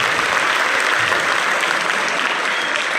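An audience at an Isra Mi'raj religious talk in a school hall claps steadily and densely throughout, a loud, even wash of applause with no gaps.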